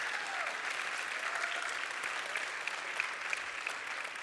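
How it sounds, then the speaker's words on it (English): Audience applause for a speaker at a WordCamp Europe conference session in Paris, steady dense clapping from a large crowd sustained throughout, moderately distant and fairly quiet. "So can I ask for one more round of applause, please, for Petya Raykovska?"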